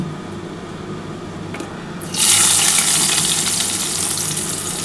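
Chopped onions hit hot oil for a chicken and potato curry, setting off a sudden loud, sustained sizzle after a quiet start; the frying hiss holds steady and close, with no talking.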